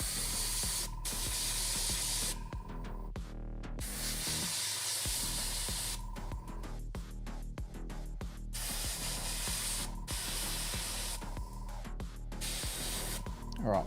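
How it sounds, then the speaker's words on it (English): An airbrush sprays paint onto a Gundam Zaku II model kit in repeated bursts of close, airy hiss, each lasting a few seconds and separated by short pauses, with a faint steady hum underneath. "All right, we're definitely airbrushing better"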